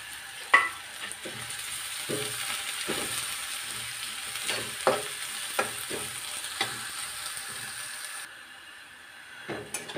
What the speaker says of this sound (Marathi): कांदा आणि मिरची सोनेरी रंगापर्यंत मस्त परतून घ्यायची